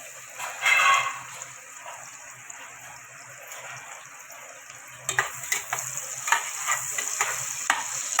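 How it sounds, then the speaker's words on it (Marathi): Onion is added to hot oil for a village-style mutton curry, a soft sizzle with a brief louder burst early on, then a livelier crackling fry with intermittent stirring taps, nearby and without speech. "तेल आपलं गरम झालेलं आहे आपण कांदा टाकूया"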